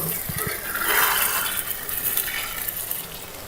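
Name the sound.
water poured into pan of chicken bhuna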